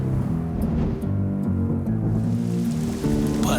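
Rain falls in a children's cartoon as a dense, loud, steady wash of patter that runs unbroken throughout, with no voices over it.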